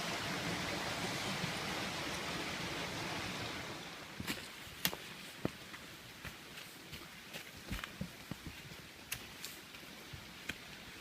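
Water rushing quickly beneath boulders on a wintry Korean mountain, Biseul Mountain, a steady broadband wash, at first loud and close, then quieter with scattered clicks and taps over it.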